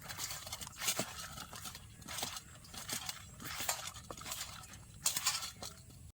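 Eggplant pieces being mixed by hand with salt and turmeric in a village kitchen make soft, rhythmic squishing and rustling pulses, close and fairly quiet, repeating every second or so.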